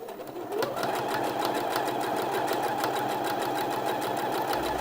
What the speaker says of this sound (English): so I'll do a line of stitching along there